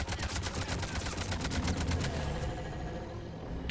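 Rapid automatic gunfire in Mass Effect Legendary Edition rattles in a fast, steady burst for over two seconds and then fades into a softer rumble.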